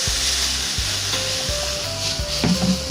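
A pan of ginger, garlic and chilli paste for egg chilli sizzles loudly up close while a spatula scrapes through it in regular strokes, with a brief bubbling hiss near the end.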